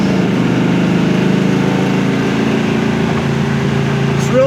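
A 1970 Camaro Z28 V8 rumbles steadily at close range with a deep, continuous low throb throughout, only lightly revved, with no talk over it.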